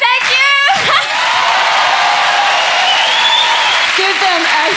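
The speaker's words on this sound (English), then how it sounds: "Give them a huge round of applause." Big stage-show audience bursting into loud applause with whoops and cheers, steady and close throughout, briefly overlapping a voice at the start.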